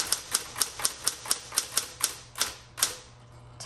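A 1970s Electra 210 electric typewriter clatters through a fast run of about a dozen sharp, evenly spaced strikes during a power return, slowing slightly before trailing off into quiet hum.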